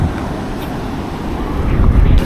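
Big waves buffet a fishing boat at sea off Bolinao, a rough, rumbling wash of water and wind noise that swells toward the end, with no clear voices.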